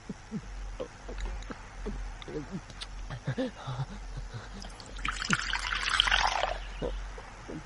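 Water poured for a drink, a bright splashing burst lasting about a second and a half near the end, close by, following earlier speech and quiet movement.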